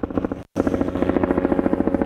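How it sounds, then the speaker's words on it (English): A helicopter passes overhead during an outdoor golf chipping session, its rotor throbbing in a fast, steady, loud pulse that cuts out for an instant and then resumes, with no talking. "Got a helicopter going over my head, so we'll wait for a second."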